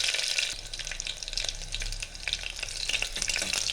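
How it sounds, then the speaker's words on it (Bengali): Curry leaves and chillies spit and crackle in hot oil, a close, busy sizzle full of quick pops and bursts that keeps going without any talk. "কারি পাতাটা, লঙ্কাগুলো ভাজা হবে"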